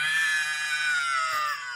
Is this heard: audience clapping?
no